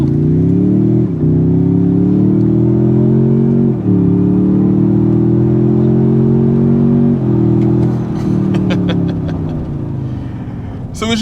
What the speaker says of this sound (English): I'm going to do an acceleration run